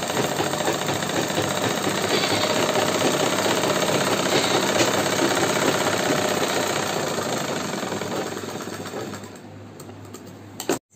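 A sewing machine runs continuously at a fast, steady whir while stitching a salwar cuff (mohri). It stays close and loud, then slows and stops abruptly at the end.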